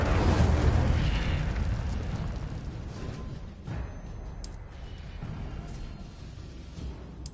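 An Incendio fire spell in the Hogwarts Legacy video game erupts in a loud, close fiery burst, then fades into a rumbling roar, with softer flare-ups following a few seconds later.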